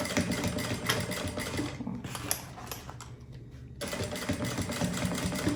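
A sewing machine runs steadily, stitching a seam on a fabric zippered pouch, with a dense rapid mechanical chatter that pauses briefly midway and then resumes, close and continuous.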